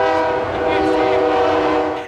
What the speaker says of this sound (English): As a train left the station